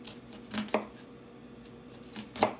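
A knife chops through an onion on a cutting board: two distinct sharp strikes about a second and a half apart, close but fairly quiet, over near silence.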